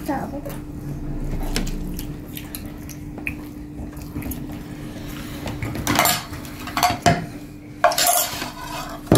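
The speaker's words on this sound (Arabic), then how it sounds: "هقلب الملوخية" Molokhia stirred in a metal pot, a spoon scraping and clinking against the sides with sharper knocks toward the end, heard under continuous nearby talk in a home kitchen.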